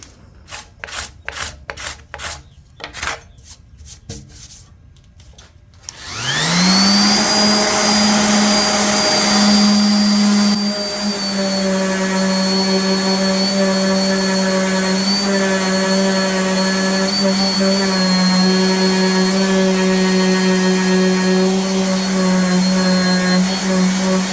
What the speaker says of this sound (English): Now I'm going to sand the table.